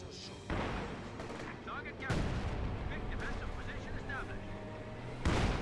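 In a Company of Heroes 2 battle, 120mm mortar fire lands as heavy booms, with two or three loud impacts over steady battlefield rumble. A voice talks over the sound.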